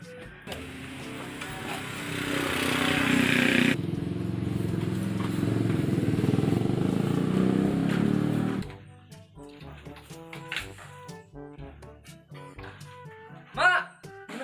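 A motorcycle engine runs with a steady, moderately loud drone for several seconds, then cuts away to music with scattered knocks.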